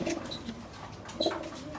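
Pigeons in a loft give short, soft coos, a couple of brief muffled calls close by over a low, faintly rumbling background.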